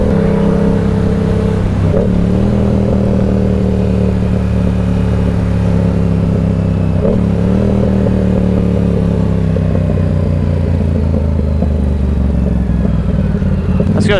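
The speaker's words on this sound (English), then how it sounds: "Let's go see what that motorcycle is up to." A motorcycle engine hums steadily and close by on the road, with a few brief revs and clatters over a constant low drone.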